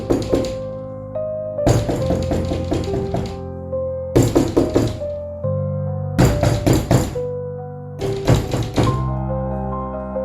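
Slow knocking on teak wooden furniture comes in five clusters of dull, close knocks separated by brief gaps, set over a sustained eerie tonal backdrop.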